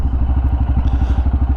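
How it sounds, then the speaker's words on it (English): A Royal Enfield Himalayan motorcycle's exhaust idles close by with a steady, loud, rhythmic thumping pulse, each beat evenly spaced in a low chugging loop. "you might have heard the exhaust. It probably sounds awesome on camera"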